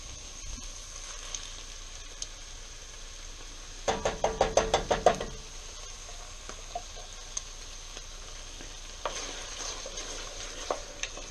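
Beef stroganoff sauce cooking down in a stainless steel pot, a soft bubbling simmer beneath a burst of rapid spoon clacks and scraping against the metal, with scattered quieter stirring taps afterward.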